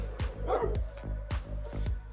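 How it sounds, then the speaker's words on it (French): Several dogs barking outdoors, a string of repeated rhythmic barks and yips of moderate loudness, with steady background noise throughout. "Merci les chiens, mais c'est pas vous que je cherche."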